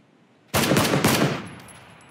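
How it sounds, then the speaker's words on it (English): Burst of rapid gunfire in the video game PlayerUnknown's Battlegrounds, several quick loud shots in a tight cluster that ring out and fade over about a second. "Did you just hear a gunshot?"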